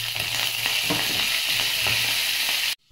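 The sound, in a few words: onions and curry leaves frying for gongura pickle tempering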